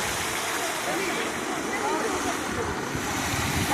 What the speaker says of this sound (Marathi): पाण्याचा कारंजा आहे.